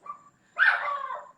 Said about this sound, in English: Are you hearing a dog barking outside?